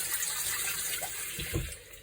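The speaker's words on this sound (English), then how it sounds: "We're going to put that under a little bit of cold water" Cold tap water runs over a hot pan while making apple and blackberry jam, a steady rushing flow with a brief stronger splash near the end.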